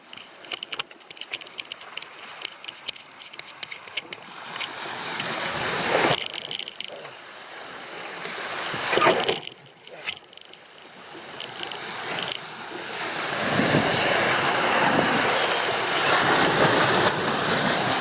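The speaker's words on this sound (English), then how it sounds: "You see the waves you get here." Waves slosh and slap against a small aluminium fishing dinghy at sea in worsening weather while wind gusts across the microphone, the rushing swell building steadily louder over the stretch with no voices.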